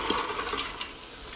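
Water is poured over dried kidney beans in an Instant Pot, a steady close splashing and rushing stream with small clinking spatters throughout.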